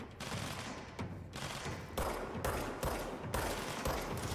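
Rapid bursts of automatic gunfire in the video game Control, loud and close, coming in several sharp volleys with brief pauses between them and no talk over them.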